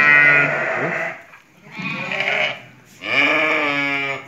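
Sheep bleating in a pen, ewes that have just given birth for the first time, heard as three loud, close, drawn-out bleats one after another with brief pauses between them.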